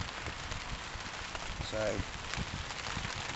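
Steady rain patters on a tarp over a muddy bushcraft camp at night, a soft constant hiss of drops, while someone speaks briefly close to the microphone.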